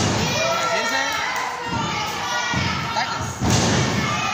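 Wrestlers' bodies thud onto the ring at a lucha libre show in Hermosillo, heavy impacts rising over a shouting, cheering crowd with voices throughout.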